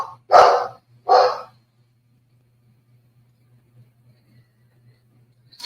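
A dog barks twice in a row, sharp and close, followed by several seconds of near silence with only a faint low hum.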